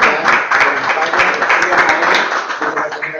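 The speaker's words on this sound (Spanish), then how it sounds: "un fuerte aplauso a Uge San Gil" An audience at an LGBTIQ+ activism event in the Canary Islands breaks into loud, sustained applause, dense clapping that holds steady throughout and tapers slightly at the end.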